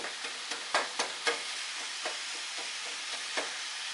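Deer meat and onions browning in a pot, a steady soft sizzle with a series of sharper crackles and spatters popping irregularly over it, close and fairly quiet.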